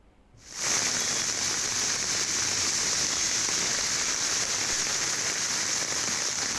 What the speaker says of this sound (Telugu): హైదరాబాద్లో కుండపోత వాన పడుతోంది